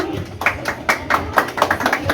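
Scattered hand clapping at a graduation ceremony in Haiti, irregular distinct claps from a small group, fairly close and loud, with no talking over them.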